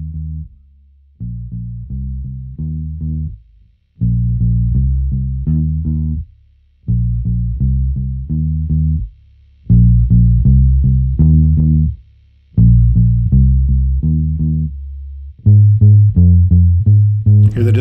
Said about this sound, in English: Hear the distortion?